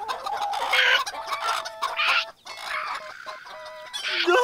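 Hens cluck in a cartoon farmyard, several birds giving repeated bursts of clucking at close range with no talk over them.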